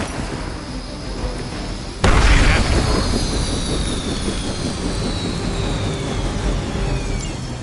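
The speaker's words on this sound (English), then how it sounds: "You've grounded the helicopter." A helicopter is brought down in the video game Marvel Midnight Suns: a sudden loud crashing burst about two seconds in, then a sustained roar of engine noise with a descending whine, no voices.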